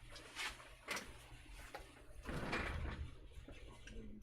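Drawers in a 3D printer workshop being pulled open and rummaged through, soft sliding scrapes and rattles of loose items, fairly quiet and close, with no clear talk.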